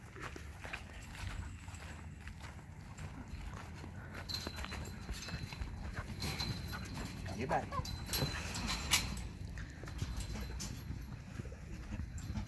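Hounds whimpering outdoors, with thin high whines rising over steady outdoor noise and background voices, clearest near the middle of the stretch.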